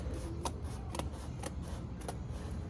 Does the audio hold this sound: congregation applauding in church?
no